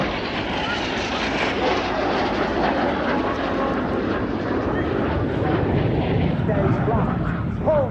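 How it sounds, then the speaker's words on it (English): Red Arrows display jets dive low over the airfield at RIAT, a loud, continuous roaring jet rush that swells and holds for several seconds, with voices faintly beneath. "Each pair will now dive down to the airfield."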